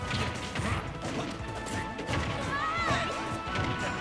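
Sharp smash attacks land in a Super Smash Bros. Ultimate doubles tournament match, a steady run of loud cracking impacts and game effects over a busy, constant backdrop.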